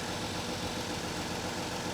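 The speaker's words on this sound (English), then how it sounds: "But the engine sounds good." A V6 truck engine idles steadily with a low, even rumble and broad mechanical hum, heard close and alone without any talking.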